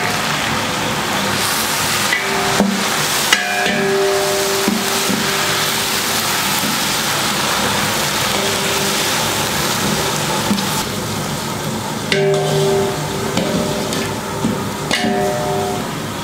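Onions with bunches of mint and coriander sizzle in a large pot for mutton biryani meant for forty people, a continuous frying crackle broken by occasional metallic clanks of a stirring ladle.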